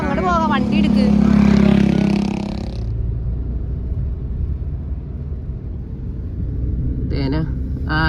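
A car on the road near Rameswaram, its low engine rumble running steadily throughout, with people talking over it at the start and again near the end.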